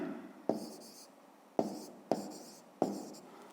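Pen writing on paper while working a fifth-grade math exercise: four sharp scratchy strokes, each tapering off, close and clear against a quiet room, with no talking.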